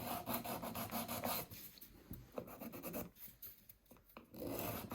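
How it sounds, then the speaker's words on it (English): A nail file rasps back and forth against a plastic Garmin mount in quick, steady strokes, close and fairly loud, with a short pause in the middle before the scraping resumes. "Let's just get a nail file. Trim this down a little more."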